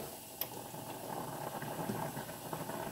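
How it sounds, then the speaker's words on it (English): Green beans boiling hard in a pot on a home stove, a steady bubbling and rolling water sound with small pops, moderately loud and close, with no talking. "You can hear how hard I cook my green beans."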